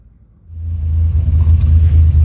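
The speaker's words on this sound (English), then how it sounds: "So right now I'm gonna give it a test drive and see how it feels." A Buick Grand National with replacement lowering springs pulls away on a test drive, its engine rumble swelling quickly from quiet to a loud, steady low drone.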